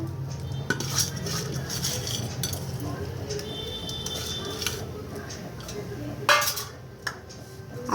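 Fried onion is spooned onto layers of chicken fry biryani in a pot, with repeated metal clinks and scrapes of a spoon against the cookware, close up, and faint talk in the background.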